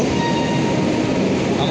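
Howrah to Shirdi express train, a loud continuous rumble of railway carriages running steadily throughout, with no talk over it.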